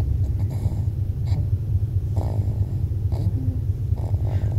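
Low, steady mechanical rumble of an automatic car wash running, with occasional swishing and spraying bursts over it.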